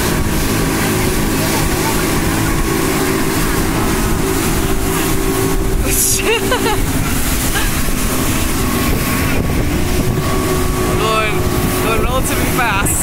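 A steady motorboat engine drones over rushing water on a boat ride to an island in Thailand, with wind buffeting the microphone throughout and occasional faint voices.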